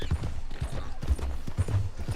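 A horse trotting in the Red Dead Redemption 2 video game, its hooves making steady rhythmic clip-clop beats that go on throughout at a moderate level with no talk over them.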